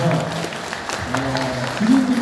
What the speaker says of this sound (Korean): 박수 한번 좀 주시면 어떨까요?